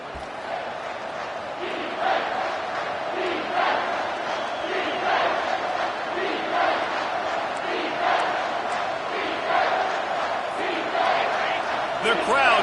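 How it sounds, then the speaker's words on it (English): A stadium crowd in an American football video game roars and chants steadily behind the defense in the red zone, a sustained wash of cheering with rhythmic swells, while commentary talk runs over it. "The crowd getting behind this defense as they try to get a stop in the red zone."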